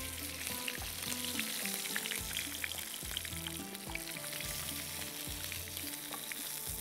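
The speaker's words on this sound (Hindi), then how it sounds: "फ्राई अच्छे से कीजिएगा" Kebabs frying in a pan, a continuous close sizzle with crackling oil and occasional stirring clinks throughout, steady and without talking.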